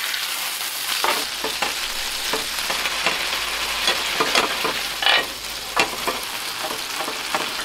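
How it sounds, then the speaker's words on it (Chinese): A tomahawk steak sears in a hot pan, giving a close, steady sizzle with frequent sharp crackles and pops, no voices over it. "煎50秒后翻个面，再给它封个边。"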